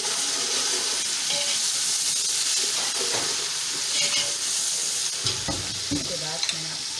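Ground ginger-garlic paste fries in a hot pan for a seeded pulao, giving a continuous close sizzle broken by clinks and scrapes of stirring, with no voices.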